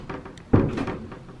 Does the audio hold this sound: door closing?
yes